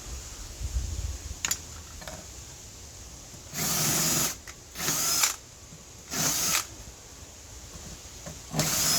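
A power drill whirs in four short bursts separated by pauses while drilling plastic pipe during a camper build, close and fairly loud, with faint handling noises in between.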